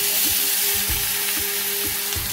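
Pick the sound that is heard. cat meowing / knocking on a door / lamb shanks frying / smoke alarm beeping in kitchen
lamb shanks frying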